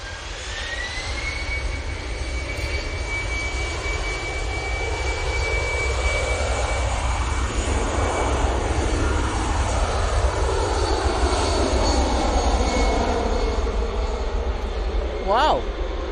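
Eurowings jet engines spooling up at Manchester Airport: a rising whine joins a deep rumble, then a broad roar swells and sweeps as the aircraft moves, loud and near, with a voice briefly over it.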